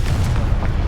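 A Confringo spell blast in the Hogwarts Legacy video game, a short, loud, deep rumbling boom that fills the whole moment with no gaps and no talk over it.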